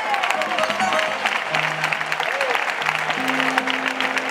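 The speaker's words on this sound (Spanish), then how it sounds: "Yo que tengo un aplauso para él y para mi niño, para los dos." An audience at a flamenco tribute event claps steadily, with scattered cheers and voices mixed in, a short burst of applause of even loudness.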